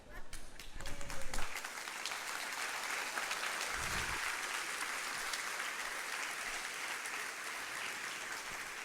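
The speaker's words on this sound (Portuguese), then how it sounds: "Eu vou esperar vocês terminarem de bater palma." A church congregation claps steadily, a dense, continuous wash of applause that swells at first and then holds at an even, fairly loud level.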